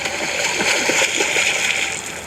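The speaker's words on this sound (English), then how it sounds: "The sounds of splashing and seeing the water ripple with every gracefully executed stroke and kick." Water splashes and sloshes from swimming strokes and kicks in a pool, a close, busy churn of splatter that rises and falls without pause.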